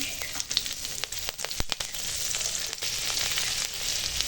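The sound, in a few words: panch phoron and slit green chillies frying in oil with potatoes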